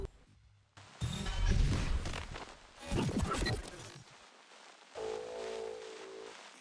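Stuttering effects preset pattern built in FL Studio for a melody, with chopped, glitchy bursts of dense distorted sound that cut in and out in uneven stabs, then a sustained tonal layer near the end, loud and without voices.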